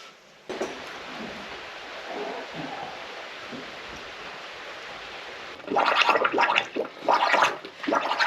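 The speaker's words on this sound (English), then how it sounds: "That's letting air out whilst this pump fills up with water" Water pump on an off-grid farm in Portugal venting air while it fills with water, a steady hiss followed by louder gurgling, splashing bursts near the mic, with no talk.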